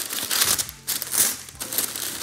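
Pink wrapping paper inside a Travis Scott Jordan shoebox crinkles in close, loud rustling bursts with short pauses between handfuls, no voices.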